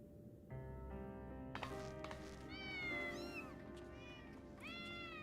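Cat meowing in the video game Final Fantasy XIV: several clear, close meows in a row with rising and falling pitch, over a steady musical background.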